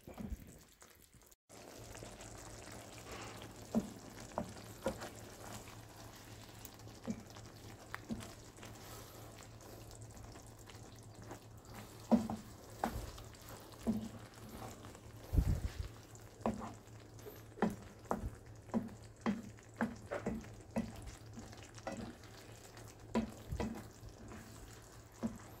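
Spaghetti bolognese sauce being stirred in a frying pan, a soft steady sizzle under irregular scraping and clacking strokes of the spoon against the pan, close and fairly quiet.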